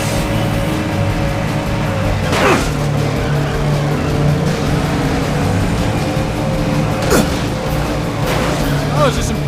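Race cars roar through a Cars Race-O-Rama Wii race, a steady engine drone with a few quick whooshing pass-bys and tire squeals, under continuous game speech.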